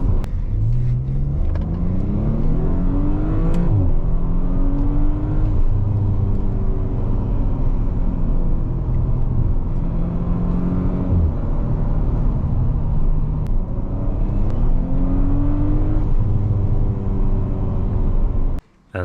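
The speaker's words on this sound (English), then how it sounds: "And here is a cold start." Straight-piped Audi RS5 with stage 2 tune, catless downpipes and front pipes, cold starting and idling with a loud, deep, steady burbling drone, rising and falling in pitch through several blips throughout.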